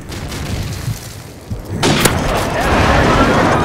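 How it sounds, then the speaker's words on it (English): A video game airstrike lands with a deep boom near the middle, its heavy blast swelling into a loud, lingering rumble after a quieter stretch of background noise. "Friendly airstrike on the way."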